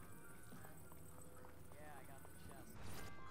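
Horses gallop in a Zelda video game, rapid clip-clopping hooves running beneath game music and a speaking voice, with a louder burst near the end.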